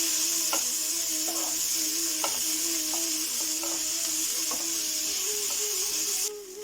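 Tomatoes sautéing with onions in a pan give a loud, steady frying hiss, with a spoon scraping and tapping at regular intervals; there is no speech, and the sizzle drops away abruptly at the end.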